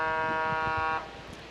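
A loud, steady buzzer-like horn blares for about a second to mark the end of a heat at a women's pro surf competition in Oceanside, California, then cuts off abruptly, leaving a quieter crowd and ocean murmur.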